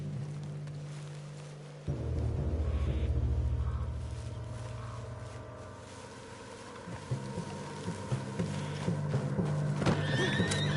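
A spooked horse in the video game Red Dead Redemption 2 neighs and whinnies loudly over a low rumbling bed, with hoof clatter and shuffling building toward the end.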